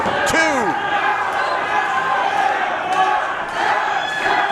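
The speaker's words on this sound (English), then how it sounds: "The crowd chanting for him to tap." An indoor wrestling crowd chants and roars for a wrestler trapped in a figure-four hold to tap out, a steady loud din with a sharp whistle and a few thuds, over continuous commentary.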